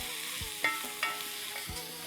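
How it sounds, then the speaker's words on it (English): A pan of biryani masala is stirred with chili powder, cumin and garam masala, giving soft scraping strokes and occasional light clinks over a steady low sizzle. "Mix it up really well."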